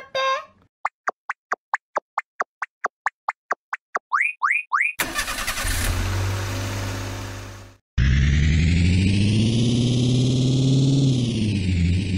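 A toy car in an anime-style toy play scene starts up after a run of springy boing effects, then a loud, steady engine-like hum rises and holds close by, with no talking.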